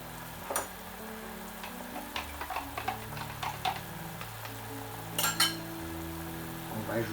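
Port wine reducing in a pan for a Tournedos Rossini with Périgueux sauce gives a soft continuous sizzle and bubbling, with a few light ticks and clinks of utensils and a low background tone.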